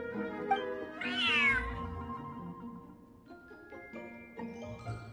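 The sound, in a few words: cat meowing in the video game Genshin Impact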